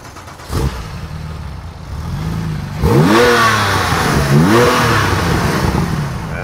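A Porsche 996 Turbo with a six-speed manual starts up, then its engine revs in rising and falling blips above a rumbling idle, loud and close without talk.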